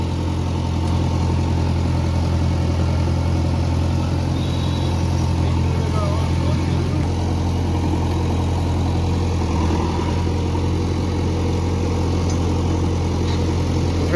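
A tractor engine runs steadily at idle while organic manure is loaded with a JCB, a constant low, close rumble with strong low harmonics throughout, with voices now and then.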